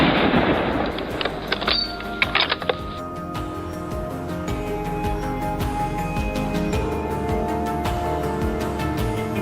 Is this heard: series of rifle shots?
yes